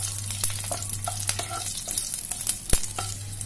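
Whole spices including cloves are stirred in a hot pan, producing a bright sizzle with quick scraping spoon strokes and one sharp clack, over a low steady hum.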